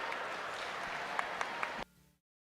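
A crowd at the Southeastern Youth Fair swine show gives a steady round of applause for the sponsors, moderately distant, with a few sharper claps standing out before it cuts off abruptly.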